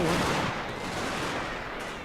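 Gunfire volley in a video game battle, a dense continuous rumble of overlapping shots and explosions heard fairly loud throughout.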